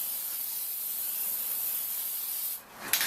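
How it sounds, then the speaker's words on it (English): Wax and grease remover wiped across a chrome Tundra grill surround before painting, a steady close rubbing and hissing swish that runs evenly for most of the clip, dips briefly, then ends with a short scuff. "So I'm going to clean it up with a little bit more of this wax and grease remover"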